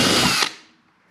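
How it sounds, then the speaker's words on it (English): A brief burst of a power drill spinning up close, drilling a hole in a Pelican case, loud and harsh for under half a second, then cutting off and fading to quiet. "So this will be the first hole I drill."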